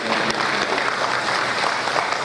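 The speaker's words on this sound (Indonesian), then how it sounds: "Aplaus saya kira" An audience claps steadily for a couple of seconds, a dense even patter of many hands with no break, filling the space at a lively level.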